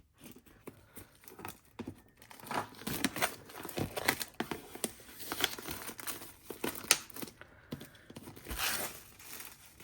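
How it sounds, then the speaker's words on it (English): Craft knife cutting open a package of colouring books and art supplies: faint crinkling, tearing and rustling of packaging material in irregular bursts, close by and quiet. "where's my craft knife? Just gonna cut this open and we can have a look."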